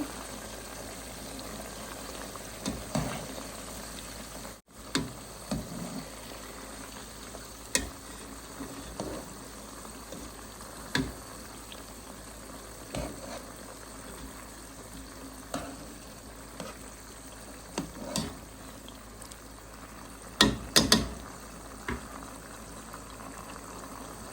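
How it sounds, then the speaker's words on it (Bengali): Chicken pieces just turned in a pan cook with a quiet, continuous bubbling sizzle, broken by occasional soft scrapes and clinks of stirring across the stretch. "চিকেনগুলো এখন উল্টিয়ে দিব"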